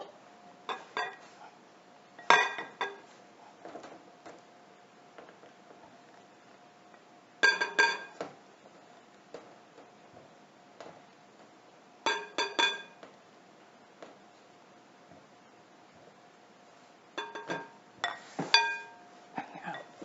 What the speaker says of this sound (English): Now, give it a good whisk. Get it really combined.